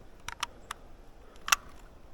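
An air rifle bolt is pulled back: a few sharp mechanical clicks, spaced apart, then a louder metallic snap near the end, close and crisp in a quiet room.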